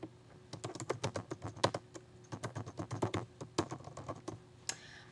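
A message is typed on a computer keyboard, a quick, irregular run of crisp key clicks at close range in a quiet room.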